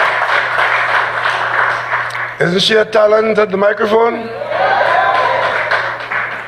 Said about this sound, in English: Give the chair lady a round of applause